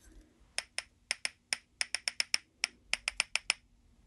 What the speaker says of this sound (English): you're going to clap them